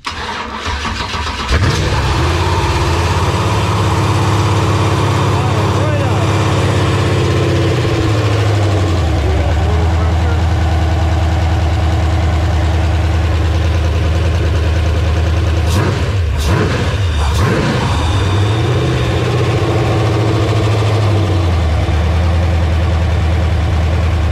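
An LS V8 engine run by a Holley Terminator X Max system cranks and catches, then settles into a loud, steady idle with a couple of brief throttle blips partway through, close up and continuous.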